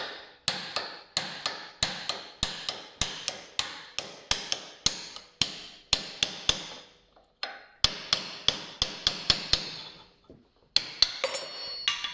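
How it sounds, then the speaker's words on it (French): Hammer blows on a chisel driving out a lower engine-mount bushing at the subframe, a long run of sharp metallic strikes in quick irregular bursts with brief pauses, close and alone without talk. "On prend juste un petit burin, un marteau. On vient se caler pour enlever la bague."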